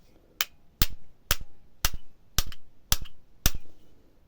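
Seven evenly spaced, sharp metallic knocks from a hammer driving out an old VAZ 09 car trunk lock, struck about every half second, close and crisp with quiet between blows.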